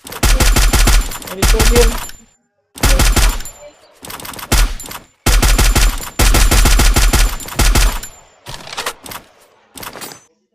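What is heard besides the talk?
gunfire from a video game, shooting from a bridge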